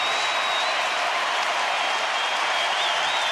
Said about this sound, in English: this is one of the louder crowds you're going to hear that's not playoff baseball